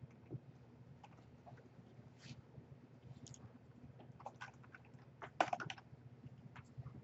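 Fingers type code on a computer keyboard in soft, uneven runs of quiet clicks over a low background hum, ending with a few slightly louder keystrokes.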